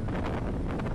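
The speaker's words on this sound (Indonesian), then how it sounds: "Kalau kita lihat anginnya luar biasa kencang sekali." Strong wind gusts during extreme coastal weather where fishing boats rocked in heavy waves, a loud continuous rumble of wind buffeting the microphone with no voices.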